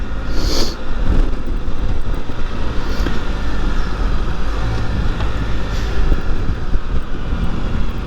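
Continuous steady road and wind rumble while riding a Spyder three-wheeled motorcycle, loud and unbroken with heavy low-end noise throughout, no talking.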